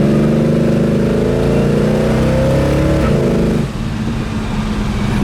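A 1969 Chevelle SS with a B&M shifter drones loud and close under throttle, then the engine note drops sharply as it shifts down.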